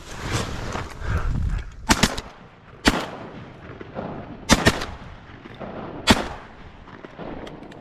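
Shotguns fire at ducks during a hunt over a large decoy spread outdoors: around six loud, sharp blasts in an irregular sequence, some in quick pairs, against a low rumbling background with no talking.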